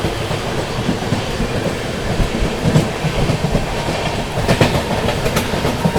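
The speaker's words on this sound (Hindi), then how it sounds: "Anand Vihar Kamakhya north east express." Anand Vihar–Kamakhya North East Express rushing past on a triple-line section in heavy rain, a steady loud rumble of wheels and carriages with rhythmic clickety-clack and a few sharper bursts near the end.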